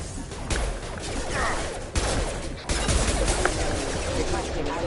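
Heavy gunfire in the video game Mass Effect 2 rattles out as rapid, overlapping bursts, loud and close, with sharp shot onsets near two and three seconds over continuous combat noise.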